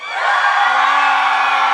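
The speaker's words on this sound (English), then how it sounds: "Everyone give it up for Sweet and Trevor" Studio audience at a flavor debate show cheering and whooping loudly after a winner is announced, a sustained dense roar of voices with shouts throughout.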